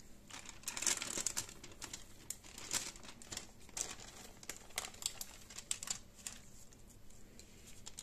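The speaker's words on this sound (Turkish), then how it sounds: "kağıdın uç kısmından kaldırarak bu şekilde katlıyorum" Paper is folded by hand in a kitchen while making pea meatballs, giving soft, close crinkles and rustles in irregular bursts, quiet and alone.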